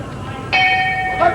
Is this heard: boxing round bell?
yes